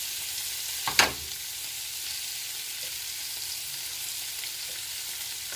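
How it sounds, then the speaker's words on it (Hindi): Chops frying on a regular iron tawa, street-food style, giving a steady low sizzle throughout with one brief sharper hiss or clatter near the start; no voices. "अब इसे दूसरी साइड से हम फ्राई कर लेते हैं"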